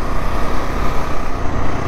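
Radiator fan whirring on an overheated car engine after an off-road climb, a steady loud broadband rush close by, with faint traffic-like rumble underneath and no talk.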